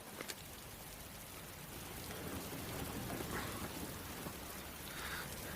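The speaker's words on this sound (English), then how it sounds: "However, were it not for this totally unexpected downpour" Heavy rain pours down steadily in a dense, continuous hiss over a cricket ground, swelling slightly louder midway through.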